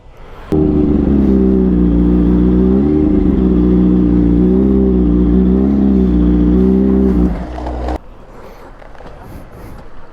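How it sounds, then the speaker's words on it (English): Loud motorbikes rev and roar along a street in Sausalito, a steady heavy engine drone with rising and falling pitch for several seconds before cutting off abruptly, leaving quieter street ambience. "Oh man, those bikes were loud."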